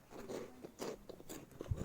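Someone bites and chews a crunchy snack, making faint, close crunches and crackles in quick irregular bursts.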